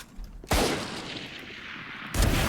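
Gunfire in the game Valorant: a loud burst of shots that cuts in sharply, rings on, then a second burst near the end.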